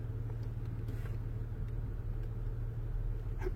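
Inside a moving car, a low, steady engine and road rumble drones evenly throughout at moderate level, with no talking.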